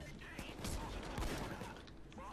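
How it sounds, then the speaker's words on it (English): Shotgun fire in the video game Payday 2 comes as dense bursts of blasts and clattering gunfire, moderately loud and mixed with other in-game noise across the whole stretch, with no clear pauses between shots. "The shotgun's awesome."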